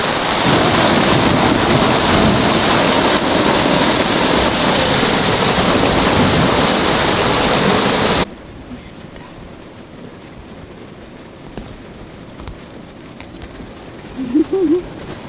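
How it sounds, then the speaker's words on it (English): Heavy rain roars loudly with a thundery rumble, about 20 millimetres in 20 minutes, then cuts to a quieter, steady patter of rain with a faint voice near the end. "20 millimeters of rain in 20 minutes"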